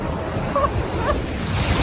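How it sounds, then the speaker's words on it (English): Big ocean waves surging along a shore on the Big Island of Hawaii, a steady broad wash of surf with wind rumble, close and fairly loud, with a couple of faint tonal chirps over it. "These are some of the biggest waves I've found on the Big Island."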